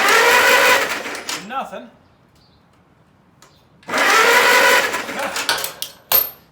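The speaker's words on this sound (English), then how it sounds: "That is probably the only cylinder that I hear firing." An old Farmall C tractor engine, unused for 25 years, cranks in two loud, rough mechanical bursts with only one cylinder firing, separated by a quiet pause, with a brief spoken word in between.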